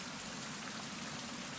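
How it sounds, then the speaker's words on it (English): Steady rain pours down throughout a survival video game scene, a dense, even hiss of falling drops with no break and no voices. "I feel like I'm talking really loud to talk over the rain."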